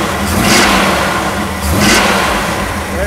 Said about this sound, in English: Notice as I give it the gas, what that hood scoop does,